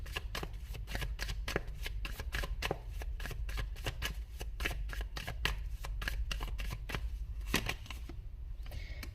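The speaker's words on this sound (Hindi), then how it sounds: "यहाँ दो कार्ड्स मैं और निकालूंगी मेरे इस वाले डेक से" A deck of tarot cards is shuffled close up, a fast run of crisp riffling snaps and flutters repeating steadily for several seconds with no talking.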